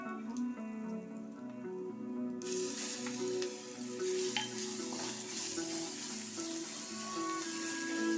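A steady hiss of spice paste frying in hot oil, close up, that grows brighter and louder partway through and keeps crackling with scattered pops.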